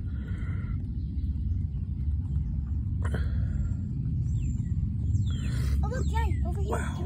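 A low, steady rumble of an airplane passing overhead fills the background in Nashville, Tennessee, with birds chirping more clearly toward the end.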